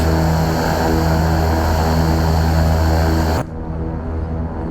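Twin propeller engines of a Beechcraft King Air 350 in X-Plane 11 drone loudly and steadily with a strong tonal hum, then drop abruptly to a lower, quieter whir near the end.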